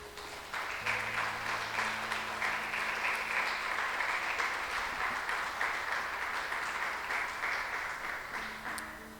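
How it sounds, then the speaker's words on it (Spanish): A church congregation claps together in a long, even burst of applause for the Lord, a thick continuous patter of many hands with a faint tone humming underneath. "Dale un aplauso al Señor"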